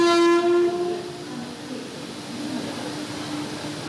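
A train arrives at a railway station in Prayagraj, India, its loud horn blaring at the start before fading into the steady rumble and clatter of rail cars rolling in.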